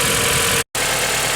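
An Acura TSX engine idles just after an alternator replacement, giving a steady, close mechanical hum with a faint knocking texture. The sound cuts out completely for a split second before resuming unchanged.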